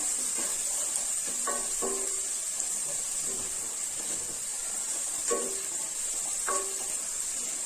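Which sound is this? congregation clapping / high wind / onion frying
onion frying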